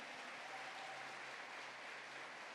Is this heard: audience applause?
yes